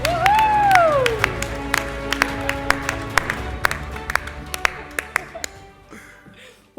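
Audience at an awards ceremony clapping and cheering in a hall, a dense spread of claps with sharp individual hits, while a voice talks over it and a whistle-like tone rises early on.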